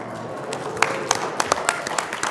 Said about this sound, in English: I think everybody should stand and applaud.